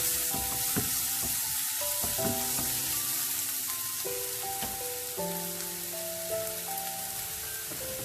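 Tomato chutney fries in a pan as turmeric is stirred in, a soft constant sizzle under sharp clicks and scrapes of the spoon, with a faint tonal hum in the background.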